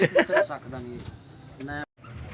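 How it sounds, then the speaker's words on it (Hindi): Teddy pigeons cooing in a loft, soft low coos mixed under steady nearby speech, with a short silent gap near the end. "ये शौक कर रहे हैं जी टैडी कबूतर का जी।"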